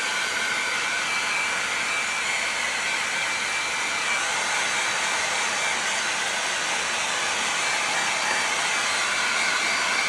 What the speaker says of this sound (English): That's what the blow dryer is for.